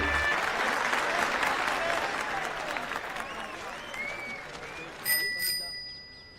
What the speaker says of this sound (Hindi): घंटी बढ़िया है इसकी